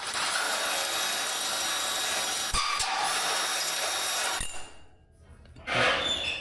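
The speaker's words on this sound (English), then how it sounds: "take a hole saw and run that in there" A hole saw spins inside a metal tube to clear out the burr, giving a steady loud grinding whir for about four seconds before it stops, followed by a brief scrape.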